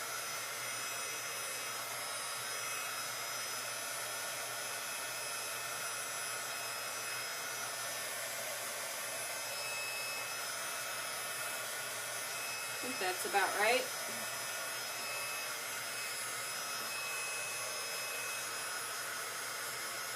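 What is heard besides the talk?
heat tool drying a craft card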